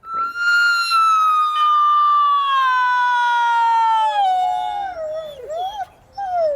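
Red wolves howl from a wildlife center enclosure: one long, clear, high howl slides slowly downward, then breaks into shorter wavering, quavering howls close by, with no talking.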